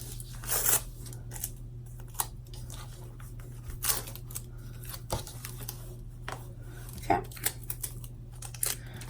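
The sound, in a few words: tearing tape and stabilizer off a sewn zipper bag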